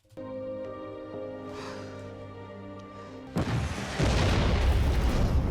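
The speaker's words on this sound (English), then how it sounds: "Who's causing the explosions?" In a scene from The Flash season 4 episode 1, a sustained tonal hum is cut off by a sudden loud boom, followed by rumbling blasts and crashing debris.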